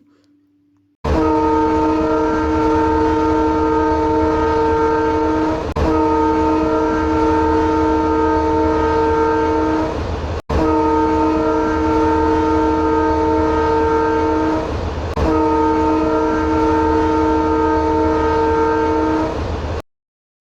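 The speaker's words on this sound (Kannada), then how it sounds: "ಇವಾಗ ಟ್ರೈನ್ ಹತ್ಕೊಂಡು ಮುಂದೆ ಹೋಗುತ್ತೆ" A loud, steady toy train whistle tone sounds in long sustained stretches with brief breaks between them, close and continuous, with no talking, at a children's park ride in Bengaluru.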